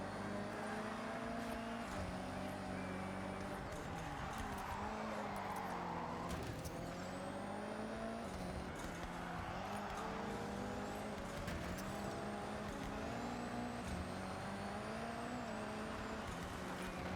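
Engines roar steadily in a Forza Horizon race, with pitch rising and falling through gear changes, loud and continuous with no break for the whole stretch.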